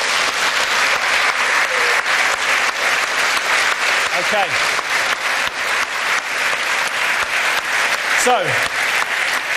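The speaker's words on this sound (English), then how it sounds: "Round of applause" Sustained audience applause at a live Watford FC legends stage event, loud and continuous throughout, with someone briefly speaking over the clapping.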